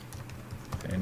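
Quick clicking keystrokes on a computer keyboard, irregular and close, while someone enters a value into a web form during a Selenium test, with faint talk in the background.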